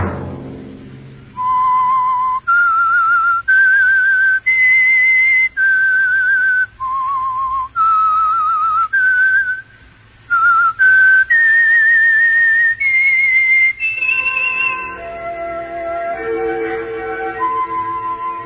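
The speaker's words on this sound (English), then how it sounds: "Let that whistle be your signal for the Signal Oil program, The Whistler" A loud, clear whistled theme tune for The Whistler radio mystery program, a melody of sustained notes separated by short breaks, playing alone without speech before a brief orchestral swell at the end.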